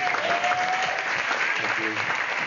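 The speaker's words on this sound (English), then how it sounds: "round of applause for Will, who's been emceeing tonight" Audience at a comedy night applauding the emcee, a dense continuous wash of clapping from a room crowd with a faint whistle early on and some murmured voices beneath.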